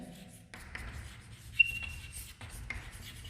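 Someone writes by hand on paper during a geometry lesson, with short, close, soft scratching strokes broken by brief pauses, plus a small tap and a thin faint squeak partway through.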